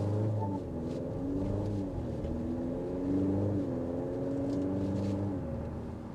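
Maserati Grecale SUV pulling away from a stop, a smooth, moderately quiet drivetrain whir rising in pitch in steps as it gathers speed, heard from inside with no talk.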